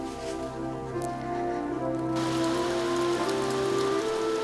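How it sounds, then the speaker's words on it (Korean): Spring rain falls steadily, a soft broadband patter that thickens midway, over sustained musical tones, with no voices. "봄비가 그칠 줄 모르고 내렸다."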